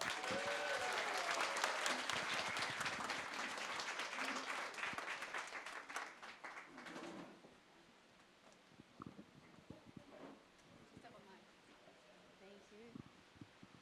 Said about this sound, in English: Please welcome a massive round of applause to Mary and Victor.